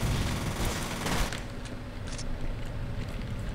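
An MP5 submachine gun fires in the video game F.E.A.R. as a dense, loud burst of rapid shots in the first second or so, followed by scattered lighter impacts and rumbling game noise.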